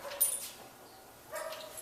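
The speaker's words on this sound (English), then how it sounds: "Dog barking, distracted." Outdoors during a dog training session, a distracted dog barks twice, with the barks about a second apart. They sound faint and somewhat distant, and no talking is heard.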